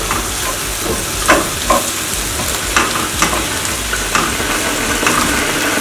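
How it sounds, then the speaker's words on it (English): Vegetables and seasoning stirred in a pot of oxtail stew, with a loud close sizzling hiss and repeated scraping strokes of a spoon at a loose rhythm throughout. "Use this and I stir."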